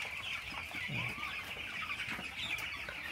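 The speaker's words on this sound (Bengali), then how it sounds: "আসেন দেখি আমরা আমাদের মুরগিগুলোর অবস্থা কি।" Chickens cluck and call continuously in a large poultry farm, a dense flock chorus of overlapping fowl voices heard close and steady with no talking.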